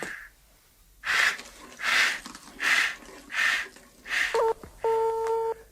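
A telephone is dialed: several soft rotary-style whirring pulses in sequence, then a few short electronic tones, heard close and quiet without talk.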